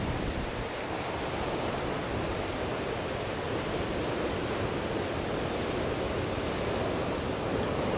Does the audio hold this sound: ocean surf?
yes